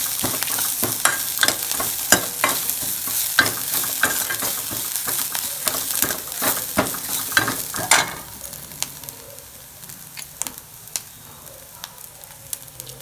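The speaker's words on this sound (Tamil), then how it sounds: "போட்டு இதையும் எண்ணெயில் நல்லா வறுத்துக்கோங்க." Crushed pepper and cumin frying in oil for coconut milk rasam, stirred with sharp, repeated scraping strokes over a dense crackling sizzle that drops to a quieter simmer with occasional clicks partway through.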